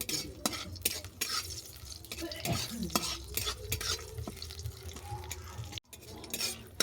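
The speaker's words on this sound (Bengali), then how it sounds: "ফোড়নটা ভালো করে ভেজে নেব।" Whole spices, including bay leaf, dried red chillies and five-spice, sizzle and crackle steadily in hot oil as a utensil stirs and scrapes the pan, with occasional clinks of metal against the pot.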